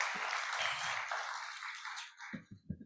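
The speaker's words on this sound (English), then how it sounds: "Give applause for all the participants." Applause from more than 200 participants at the opening ceremony of a youth summit on safeguarding nature, a steady wash of clapping that fades out near the end as a voice begins.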